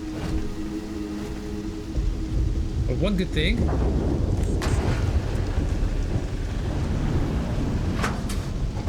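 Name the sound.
rain and thunder in a video game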